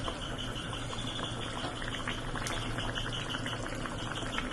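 Hilsa fish curry with potato and fried brinjal simmers in a pan over medium-high flame, giving off a steady, close, bubbling hiss with faint crackles throughout and no voices.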